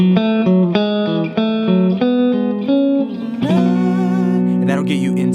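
An electric guitar plays a climbing ending-lick variation from a song: a run of clear picked notes moving upward, then a bent note and a sustained ringing chord with reverb, played solo with no voices.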